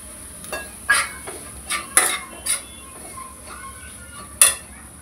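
Roasted dal, ground farsan and prepared masala being stirred in a pan, with sharp metallic spoon clinks and scrapes against the pan coming at irregular intervals, close and clear over a faint background, no voices.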